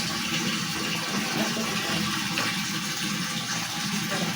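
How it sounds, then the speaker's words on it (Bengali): Water pours and splashes steadily during a pet's bath on a hot day. The gushing is continuous and close up, with no voices. "নুংলু চান করছে"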